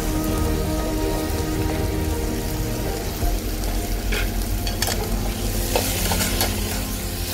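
Onion and tomato sautéing with ginger-garlic paste and curry leaves for mutton soup make a steady, close sizzle and crackle throughout, with occasional sharper pops and a few stirring scrapes.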